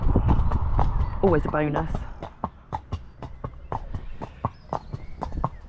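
Racehorse hooves clip-clopping steadily at a walk on a hard surface at a race day at Cartmel, close by, with a brief whinny partway through and a rider talking over the hoofbeats.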